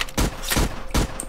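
Gunfire in a video game: three or four quick, loud shots spaced roughly a third of a second apart, close and punchy, with no talking.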